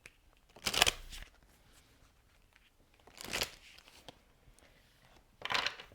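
Fortune's Oracle and Rider-Waite tarot decks are shuffled by hand in three separate short riffling bursts, close and crisp, with quiet pauses between them.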